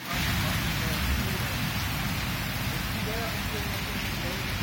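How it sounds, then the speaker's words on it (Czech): Heavy tropical rain pours down in Kuala Lumpur, Malaysia, a dense, continuous loud hiss of falling water with no letup from start to finish. "Když prší, tak pořádně."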